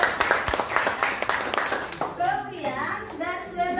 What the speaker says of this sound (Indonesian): kasih tepuk tangan untuk saya